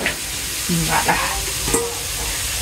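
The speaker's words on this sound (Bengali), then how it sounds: "আর রসুন দিয়ে ভাজছি, বুঝছ?" Bitter gourd, boiled in water, is fried with garlic in a pan without oil: a close, uneven sizzle with scraping and clattering stir sounds.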